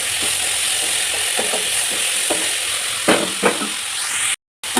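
A vegetable curry with tomato and salt is stirred in a pan over a steady sizzle, with several distinct scraping strokes near the microphone before a brief dropout to silence.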